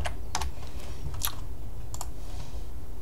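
Keys clack on a computer keyboard in a few short, irregular taps as a word is typed, close and fairly crisp over a steady background hum, with no voices.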